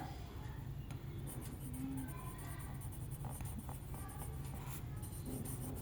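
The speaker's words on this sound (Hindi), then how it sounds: "यहाँ पे लिख देते हैं" A pen scratches across paper or a board while a teacher writes out maths terms in a class lesson, quick close strokes in short bursts over a steady low room hum, with no talk.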